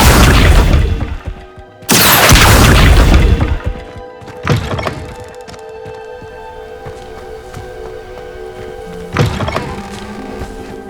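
Casting the Accio summoning charm in the Hogwarts Legacy video game gives a sharp magical burst with a heavy whooshing crash, followed by a ringing, shimmering tail and a couple of later thumps.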